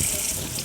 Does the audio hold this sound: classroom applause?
no